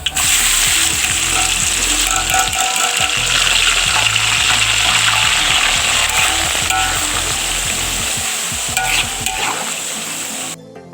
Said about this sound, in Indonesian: kemudian kita goreng.